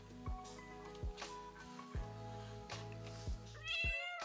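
A cat meows several times, short, fairly close calls that repeat at an uneven pace over a steady electrical hum. A brighter, higher sound comes near the end, and no one speaks.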